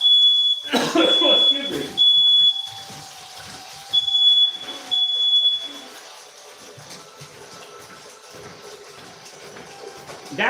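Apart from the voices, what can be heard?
smoke alarm beeping in a kitchen while cooking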